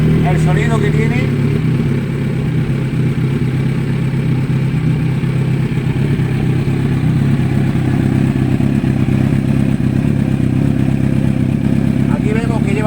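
A Kawasaki Z900 motorcycle with an SC Projet exhaust runs close by with a loud, steady engine rumble that holds an even tone throughout, with no clear rises in pitch.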